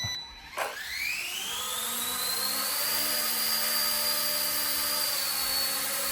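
Small XK UH-60L K170 RC helicopter spinning up indoors: a loud, steady electric motor whine that rises in pitch after a sharp start, then holds a sustained high rotor buzz with no talking.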